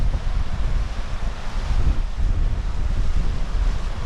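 Stream of Black Burn flowing through a valley in the Northern Pennines fells, a steady rushing wash of water mixed with buffeting wind noise throughout, with no talk.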